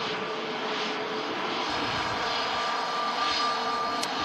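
An EasyJet airliner at Manchester Airport produces a steady, loud jet engine roar with a broad rushing hiss, continuous and unbroken throughout.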